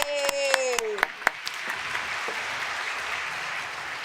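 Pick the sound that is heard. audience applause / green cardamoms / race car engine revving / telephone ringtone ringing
audience applause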